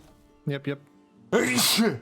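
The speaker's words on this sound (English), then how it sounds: "I have to sneeze." A person says a couple of short words, then lets out a loud, forceful sneeze up close that ends the clip.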